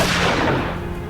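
Gunshot sound effect in an audio drama set in a warehouse, a single loud close burst that fades quickly over about a second.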